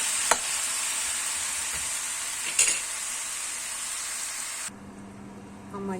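Frozen grilled eggplant frying in a pan with onions, a steady close sizzle broken by a few stirring clicks, then dropping quieter near the end as the sizzling eases.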